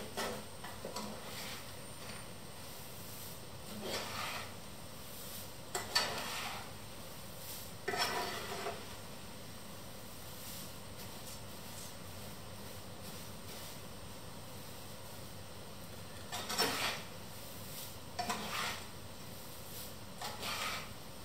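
Oat flakes roasting in a pan are stirred with a utensil, giving quiet scraping and rustling strokes in irregular bursts over a faint steady background, with no talking.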